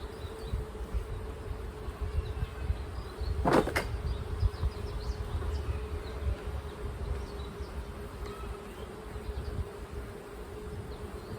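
Bees hum in a steady, droning swarm close by around a beehive, with one louder buzz passing near early on, and no voices.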